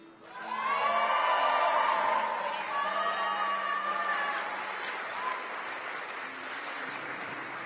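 An audience claps steadily at a children's stage performance of The Ugly Duckling, the applause loud and sustained for several seconds, with a few voices faintly mixed in and a brief rise near the end.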